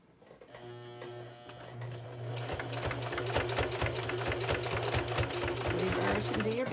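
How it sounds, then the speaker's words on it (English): A classroom sewing machine back stitches a face mask, its motor starting up and settling into a rapid, even needle chatter that grows steadier and louder, close by, with a voice talking over it early on. "And back stitch. I'm using a classroom machine."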